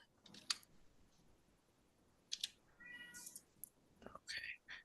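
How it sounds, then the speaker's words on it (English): A pet cat meows a few times in a quiet room, faint and intermittent, with short high cries amid soft clicks and low background noise. "your cat is crying."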